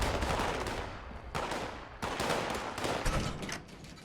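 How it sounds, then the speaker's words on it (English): Gunfire from shooting feral ghouls in the video game Fallout 76, bursts of rapid shots separated by short pauses, moderately loud and without talk. "Don't worry about the gunfighting that's going on."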